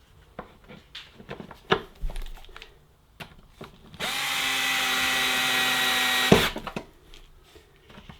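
A power drill drives screws into a plastic KETER Store It Out Midi 880L storage box, with a steady whine of about two seconds between short clicks and handling knocks, close by.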